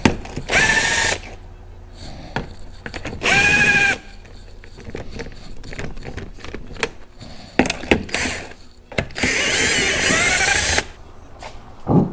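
A power tool buzzes in several loud bursts while bolts come off the rear suspension of a Polaris Ranger, with clanks and rattles of handled parts between the bursts.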